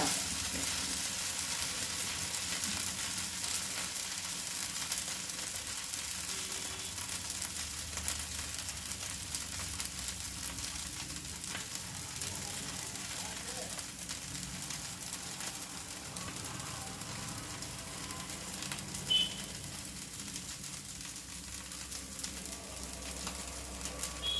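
Jowar (sorghum) dosa roasting on a hot pan, a soft, even sizzle running throughout, close and fairly quiet with no talking.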